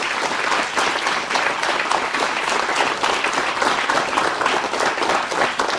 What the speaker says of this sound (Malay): Tepukan kepada Liao.